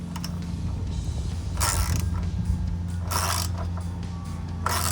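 Ratchet tightening bolts on a BMR twin tube front strut tower brace on a 2015-2023 V8 HEMI Dodge Charger, heard as a few bursts of quick clicking over a steady low hum, close and fairly quiet.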